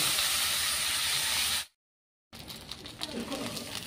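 Potatoes and flat beans sizzle in a hot wok, a loud steady hiss that cuts out briefly, then resumes with stirring scrapes and crackle.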